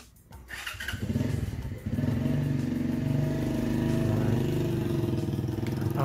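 A delivery rider's motorcycle starts off and pulls away, the engine rising to a steady, loud rumble with a brief dip as it shifts, alone with no talk.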